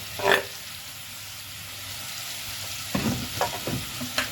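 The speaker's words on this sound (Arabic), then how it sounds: "هروح منزله عليها البصلايه تدبل معايا كده وتكمل سواها فيها، ومع البصلايه 4 فصوص كده صغيرين" Chopped onion and four small garlic cloves go into a pan with chicken gizzards, giving a soft, low sizzle broken by a few sharp bursts of spattering and stirring scrapes.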